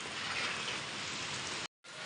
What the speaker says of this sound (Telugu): మళ్ళీ వర్షం.